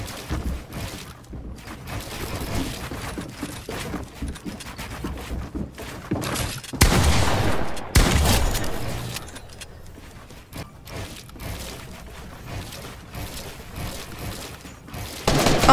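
Gunfire from a Fortnite 1v1 box fight played on a laptop: sparse thuds and clatter give way to a couple of loud bursts of shots in the middle, then quieter game sounds.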